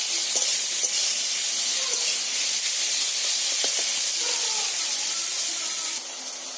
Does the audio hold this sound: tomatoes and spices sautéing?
yes